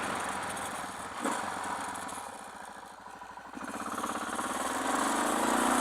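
Motorcycle engine running steadily on a shakedown ride, a droning mid-pitched rumble with a brief surge near the start and rising revs toward the end, with no talk.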